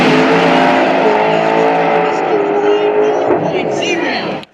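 Pro Stock drag racing cars launch at the PDRA East Coast Nationals at GALOT Motorsports, a loud, sustained, high-revving engine roar that holds steady for about four seconds and then cuts off sharply.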